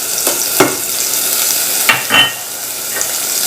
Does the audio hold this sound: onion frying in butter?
yes